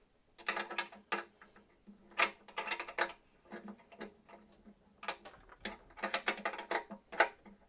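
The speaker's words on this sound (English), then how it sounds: "Tightening the nuts here on the tuners." A small wrench turns the nuts on Taylor guitar tuners, making clustered ratcheting clicks and metallic ticks in short irregular bursts with brief pauses, close-up and with no talk.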